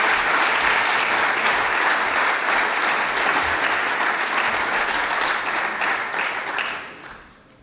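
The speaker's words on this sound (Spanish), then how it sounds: "las recibimos a todos con un fuerte aplauso" Loud, dense applause from a large audience welcoming a debate panel at an annual science-talk gathering in Asturias, holding steady for about six seconds before fading away.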